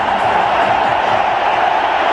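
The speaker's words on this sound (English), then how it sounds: "have a look at the crowd. The atmosphere here is electrifying." A cricket stadium crowd buzzes in a dense, loud, continuous murmur of many voices, with no single voice standing out.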